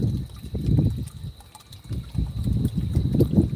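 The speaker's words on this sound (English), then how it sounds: "Sorry about the wind." Gusts of wind buffet a microphone outdoors in a backyard by a frog pond, coming as repeated low, rumbling bursts that swell and fade, with a brief lull midway.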